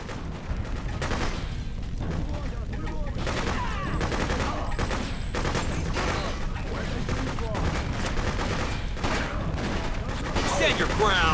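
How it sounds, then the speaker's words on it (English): Gunfire crackles without pause in the Freedom Fighters war video game, with dense rifle volleys, sniper shots and distant booms, and voices are faintly mixed in under the fighting. "My guys will again draw the attention of the enemy, so I can do some sweet sniping."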